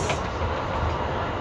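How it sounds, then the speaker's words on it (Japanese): Inside a Kintetsu Limited Express Urban Liner train while it runs, a steady broadband rumble and rush of the moving car, constant and loud with no voices. "この電車は大阪難波行き特急アーバンライナーです。"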